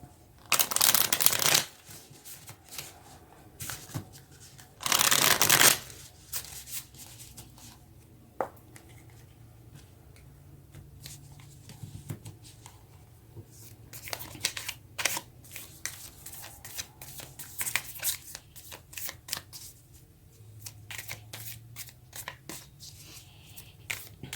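Tarot cards being shuffled in two loud riffling bursts near the start, then quieter, scattered handling clicks and soft card slaps that go on irregularly to the end.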